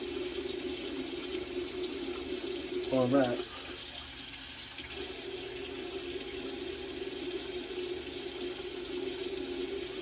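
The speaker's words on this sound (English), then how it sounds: "I don't normally keep the water running" Tap water runs steadily into a bathroom sink during a wet shave, a constant hiss throughout with a brief voice near the start.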